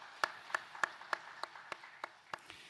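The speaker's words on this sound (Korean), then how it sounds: "하나님 앞에 영광의 박수 올려드리겠습니다" A church congregation at a Sunday worship service claps in praise, a slow, steady series of about ten distinct claps spaced roughly a third of a second apart, fairly faint and fading slightly toward the end.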